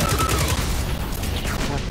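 Rapid gunfire in Destiny 2, a steady stream of close, loud automatic shots rattling without pause for the whole short stretch.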